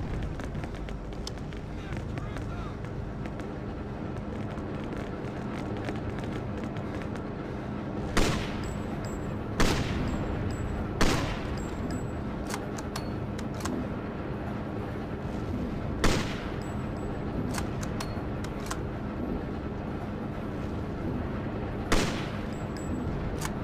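Scattered gunshots in the video game Freedom Fighters, several sharp separate cracks over a constant background of game noise, with the rest of the clip filled by steady battle ambience.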